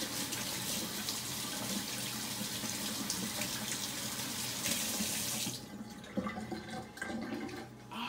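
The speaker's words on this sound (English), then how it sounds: "Okay, wash my hands real quick." Water runs steadily from a kitchen sink tap during a quick hand wash, a close hissing splash that drops off near the end as the flow is cut, with no talking.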